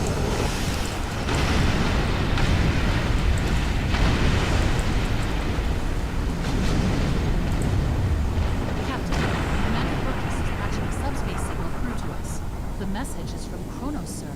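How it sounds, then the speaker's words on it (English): Sustained heavy weapons fire and booming blasts in a Star Trek Online space battle, including a Doomsday Machine firing, form a dense, loud, continuous roar of explosions with sharp crackling bursts throughout. "it's kind of hard to hear the Doomsday Machine firing with all the weapons fire going on here"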